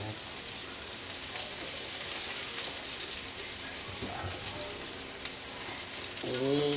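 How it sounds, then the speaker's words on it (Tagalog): Garlic and onion sauté in a pan for a chayote and squash dish, giving a steady crackling sizzle with a few soft clinks and scrapes. A voice enters briefly near the end. "Gisa lang natin, isip-isipin lang natin bawang at saka sibuyas."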